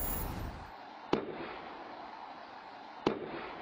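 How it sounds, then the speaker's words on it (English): Two distant explosions at night, sharp thuds about two seconds apart heard over a steady background hiss, fairly faint and muffled. "You can't see the explosion, but you can hear it."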